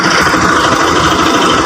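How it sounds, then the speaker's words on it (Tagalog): Kawasaki Rouser 200 RS motorcycle engine idling during a charging system check, a steady, continuous mechanical hum with a fine rapid pulse, close and fairly loud, no voices. "paandarin na muna natin yung kanyang motor"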